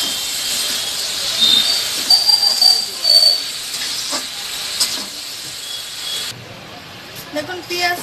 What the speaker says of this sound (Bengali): পুঁই শাক দিয়ে আমি মাছটাকে ভালো মতো ভেজে নেব।